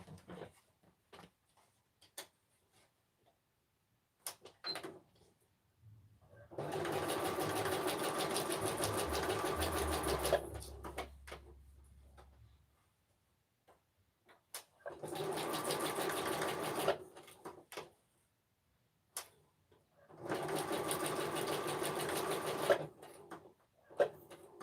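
Sewing machine stitching a craft project: three sustained runs of fast, even motor-driven stitching, each several seconds long, separated by quiet stretches with small clicks and handling taps.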